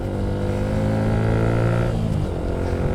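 A car engine revving during a rev-matched downshift into second gear, a loud close drone whose pitch climbs and then drops away after a couple of seconds, with no voices.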